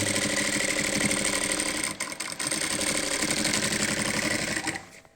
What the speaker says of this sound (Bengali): আমি সেলাইটা একদম ধার দিয়েই দিচ্ছি